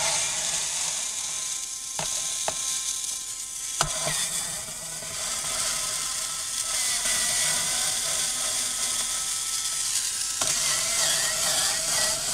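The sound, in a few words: removing screws from HP laptop bottom cover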